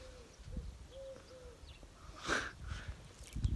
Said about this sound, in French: Ah, c'est l'oiseau là-bas, regardez.